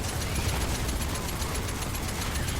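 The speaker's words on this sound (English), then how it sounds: "look at the explosions" Cannonball explosions in a video game set in a Badlands arena roll into a dense, continuous barrage of blasts, loud and close, with no talking over them.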